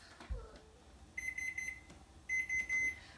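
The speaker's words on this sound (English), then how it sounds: "Put the pot in the oven. 30-minute timer." A kitchen oven timer beeps in two bursts of rapid, shrill electronic pulses, close and fairly loud, with a brief clatter just before the first burst.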